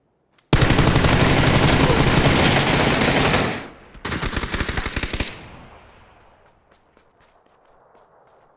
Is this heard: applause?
no